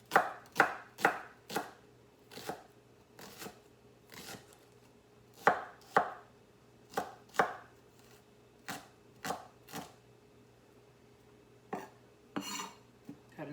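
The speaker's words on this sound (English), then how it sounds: "Cut another onion here." A knife slices a home-garden cured onion into slivers on a cutting board, giving a series of sharp, close, irregularly spaced chops with short pauses between bursts and no talking.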